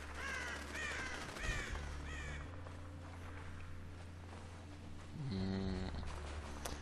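Crows caw repeatedly in the war-torn Dubai setting of the video game Spec Ops: The Line, a series of hoarse calls early on followed by a lower drawn-out caw, over a steady ambient drone.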